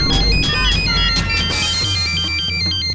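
Electronic telephone ringtone plays loud and continuous in a comedy sitcom scene, a repeating melodic ring with no talk over it.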